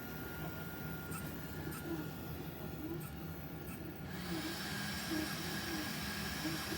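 A computer case fan spinning up to 12,000 RPM makes a steady, loud whirring hiss, rising in pitch and intensity partway through and holding there.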